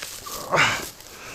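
A dog on a farm with ducks and geese lets out one sharp bark, close and fairly loud, amid quiet yard noise, with no talking.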